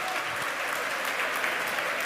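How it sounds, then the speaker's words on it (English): Loud, sustained applause from a large crowd at a SpaceX Starship launch, dense and continuous throughout with no breaks. "I have a feeling the crowd's about to go wild here."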